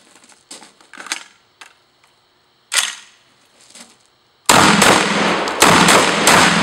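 A Vepr 12 shotgun firing number 4 and number 8 birdshot and a 1-ounce slug: faint scattered clicks and handling noises, then a sudden, very loud, sustained burst of blasts that runs to the end.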